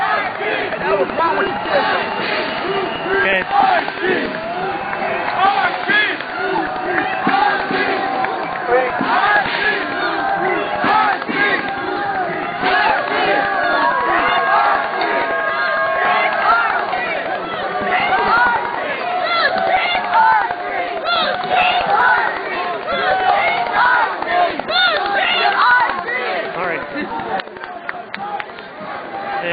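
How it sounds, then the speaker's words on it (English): Occupy protesters at a Wall Street West shutdown in San Francisco cheer and yell as a loud, sustained crowd roar, with someone speaking nearby. "Occupiers behind me are cheering."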